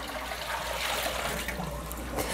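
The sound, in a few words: dye pot water being dumped into a sink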